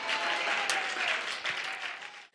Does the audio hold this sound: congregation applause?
yes